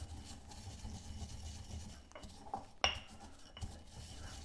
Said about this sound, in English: We're gonna grind it a bit, and that is to get more flavor out when you crush little leaves or seeds.